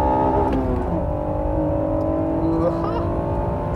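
A Honda NSX and a Ferrari Testarossa accelerate hard in a drag race, a loud sustained engine drone with rising and falling tones as the cars pull away, heard from nearby.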